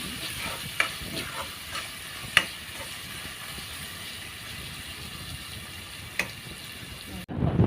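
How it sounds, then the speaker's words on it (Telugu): Finely chopped tomatoes stirred into a frying country chicken curry produce a constant soft sizzle, with a few sharp spoon-scrape clicks against the pan before the sound cuts off abruptly. "సన్నగా తరిగి పెట్టుకున్న రెండు టమాటాలు కూడా దీనిలో వేసుకుంటాము వేసుకుని బాగా కలుపుకున్నాము"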